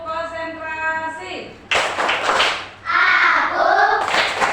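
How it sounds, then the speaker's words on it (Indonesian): Schoolchildren in an Indonesian classroom perform a rhythmic concentration clapping routine, bursts of hand claps alternating with sung and chanted voices at close range. "Tepuk konsentrasi."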